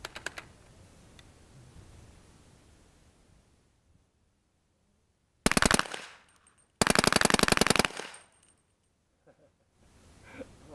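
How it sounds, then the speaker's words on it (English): AR-15 rifle with a Slide Fire bump-fire stock firing outdoors in two rapid bursts of gunfire, a short burst followed by a longer one, loud and sharp against quiet surroundings. "Unlock the bump fire."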